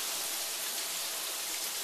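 A new rain-style shower head sprays water in a steady, even hiss, fairly quiet and unbroken, with no talking.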